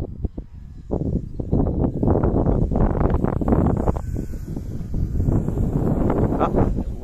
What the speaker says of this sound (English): Wind is getting up.